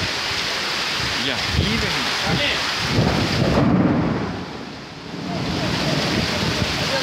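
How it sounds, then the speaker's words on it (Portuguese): Hailstorm with thunder and falling hail in the hills of Ipu, Ceará: a steady dense roar of hail and rain, swelling midway, with someone speaking briefly over it. "Uma chuva de granizo no Ceará."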